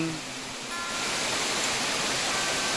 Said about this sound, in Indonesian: Inilah penampakan air terjun Tumburano yang berada di Kabupaten